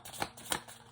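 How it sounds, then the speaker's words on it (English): Quick riffling bursts of stiff tarot-style playing cards being shuffled, two or three short flurries close by. "These cards are really hard to shuffle."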